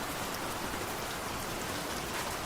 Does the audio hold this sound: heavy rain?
yes